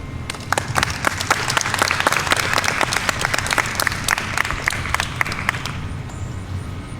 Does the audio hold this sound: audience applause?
yes